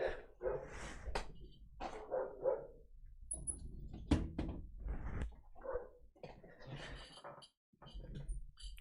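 Several dogs bark wildly in a burst of irregular, overlapping barks and yips at moderate loudness, with a few brief pauses between outbursts.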